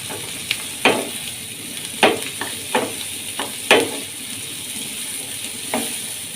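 An omelette fries in a pan on a gas stove, with a steady close sizzle broken by a handful of sharp scraping clicks from stirring or turning.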